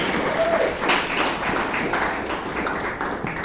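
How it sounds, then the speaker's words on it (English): Audience applause at a Toastmasters meeting in Bangalore, a steady wash of many hands clapping at moderate volume, continuing throughout with faint background voices. "For those who are found guilty and not guilty, continue the applause."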